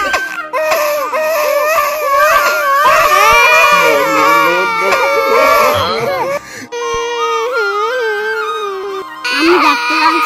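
A young boy cries and wails loudly and continuously after a shrimp bone gets stuck in his tooth, with a voice trying to soothe him.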